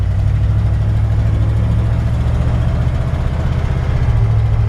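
A 1955 Ford F100 pickup with a 350 Oldsmobile V8 and Turbo 350 transmission idles steadily nearby, a loud, even low rumble with no pauses or revs.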